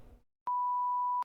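A single steady censor beep on a podcast, a pure tone lasting under a second and starting abruptly after a brief trailing bit of speech, then cutting off cleanly.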